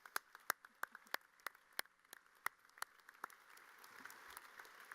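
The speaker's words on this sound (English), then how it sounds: "So how about a round of applause for you guys" Graduation audience at Williamsville East High School applauding the class of 2017, heard as sparse, distinct claps spread through a large room, fairly faint and distant, with a soft murmur beneath.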